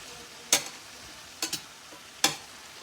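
Sausage and zucchini in a frying pan are stirred with a utensil: a few separate scraping clacks against the pan, one a quick double, over a soft, low sizzle, close and fairly quiet.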